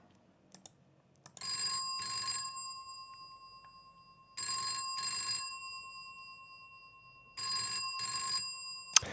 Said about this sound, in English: the starting point of any telephone ring is going to be some sort of telephone ringing sound